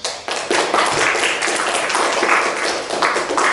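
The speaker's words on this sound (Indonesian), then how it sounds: "Kita kasih tepuk tangan dulu untuk kita semua." A crowd applauds steadily, with many hands clapping in a dense, continuous patter that stays fairly loud throughout.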